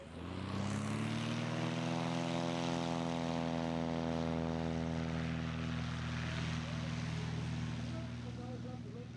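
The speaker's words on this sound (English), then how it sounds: "you notice that when he rotated and pulled the full flaps, the airplane did not immediately lift off" A STOL airplane with full flaps takes off at a short-takeoff qualifying event in Brainerd, Minnesota, its propeller engine droning steadily and loudly throughout, with a voice speaking over it.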